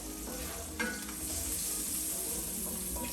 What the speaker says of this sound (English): we have the pancetta browning over here in the olive oil